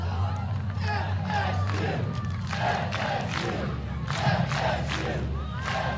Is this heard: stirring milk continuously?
no